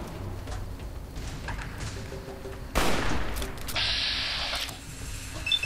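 Shotgun fire from Fallout New Vegas, one sharp loud blast midway followed by a hissing, ringing tail, between quieter game background noise.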